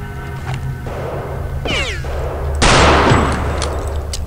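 Gunfire in the video game Return to Castle Wolfenstein: loud, close shot bursts with a whooshing sweep, ending in a heavier blast of rattling fire among other game sounds.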